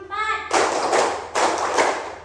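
Children in a primary school classroom clap together in a counted routine, loud synchronized bursts arriving in two clusters after a brief voice at the start.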